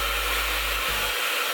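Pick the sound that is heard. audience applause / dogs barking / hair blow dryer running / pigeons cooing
hair blow dryer running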